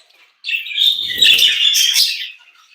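Breeding birds in a nest cage give a close, loud burst of bright chirping and twittering that lasts about two seconds, with no talking.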